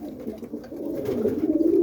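A roller pigeon cock bird coos up close, a short, soft, rolling call that rises slightly in strength over about two seconds, alone.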